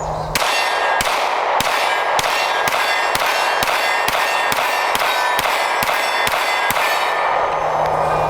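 A smaller Canik pistol fires about thirteen sharp, evenly spaced shots in quick succession, emptying one magazine, each report loud and ringing with a metallic clang.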